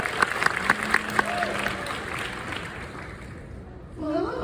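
A convention Q&A audience claps for a cosplay with a few sharp, close claps in a brief burst that fades quickly, followed by a voice speaking at the end.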